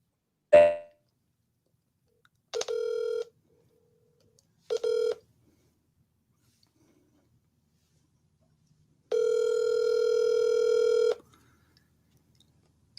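A phone call placed from a live broadcast setup: a few short bursts of touch-tone dialing, then a long steady ringback tone, with silent gaps between and no talking.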